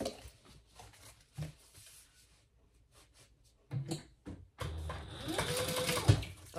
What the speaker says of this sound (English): we're going to top stitch on either side of that seam at an eighth of an inch